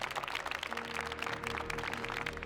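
Steady dense crowd applause from a music video, continuous clapping throughout with faint musical tones underneath.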